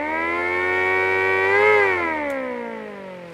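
Federal Signal Model A siren run on reduced power, a steady wailing tone that swells slightly, then slowly winds down in pitch, fairly close and without talk.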